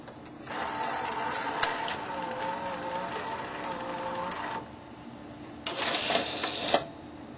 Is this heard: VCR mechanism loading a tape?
yes